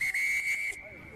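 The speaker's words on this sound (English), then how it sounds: "Referee Anselmi whistles that one up." A rugby referee's whistle blown during a Uruguay v Canada Americas Championship match gives one loud, sustained blast of about seven-tenths of a second with a short break near the start, then cuts off over faint crowd noise.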